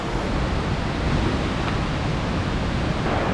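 A river rushes through a rocky gorge near Fairy Glen Falls in Snowdonia, a steady broadband roar that stays close, dense and unbroken, with no voices over it.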